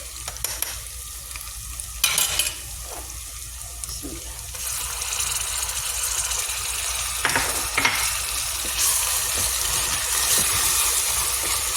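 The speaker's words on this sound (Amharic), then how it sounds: "ብስሚላ ሽንኩርቷ ክሽን እያለችልኝ ነው።" Onions fry and sizzle in a pan for dulet, a steady close hiss that thickens partway through, with scattered scrapes of stirring.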